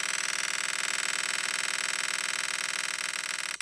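A prize wheel spinning for a school trivia draw, giving a loud, rapid, even run of clicks that holds steady throughout with no voices.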